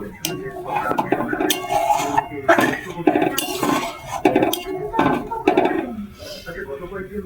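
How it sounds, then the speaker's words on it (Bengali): A spoon knocks and scrapes around a metal cooking pot as soup is stirred, a run of clinks and clatters, uneven and close, with a voice talking throughout. "এটাকে আমি ভালো করে নেড়ে দেবো।"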